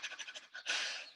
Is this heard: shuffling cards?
no